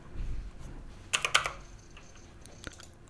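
Quick bursts of keys clicking on a computer keyboard as a short command is typed, a tight cluster of close taps followed by a lone later keystroke in a quiet room.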